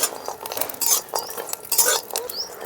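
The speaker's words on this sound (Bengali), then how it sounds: "তেলের মধ্যে আমি এখন বড়িগুলো দিয়ে প্রথমে ভেজে নেব।" Bori lentil dumplings frying in a little oil in a kadai, stirred with a metal spoon, giving a soft sizzle broken by several sharp scraping clinks against the pan.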